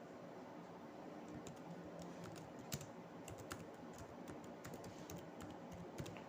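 Steady clicking of typing on a computer keyboard while entering a search for a GST registration jurisdiction lookup, with irregular keystrokes running throughout over a faint background hiss.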